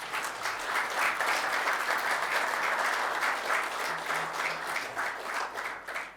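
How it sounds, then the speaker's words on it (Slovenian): A ceremony audience in Metlika breaks into sustained applause, dense steady clapping that fills the room from start to finish with no speech over it. "At this point, pa lahko zaploskamo"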